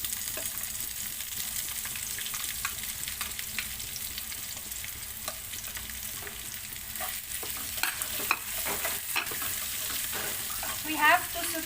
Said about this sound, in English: We have to saute our onion until it gets brown.